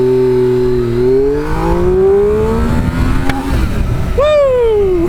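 A 2003 Triumph Daytona 955i motorcycle accelerating hard, its engine note climbing loud and close through rising revs, dropping briefly with a gear change, then surging upward again.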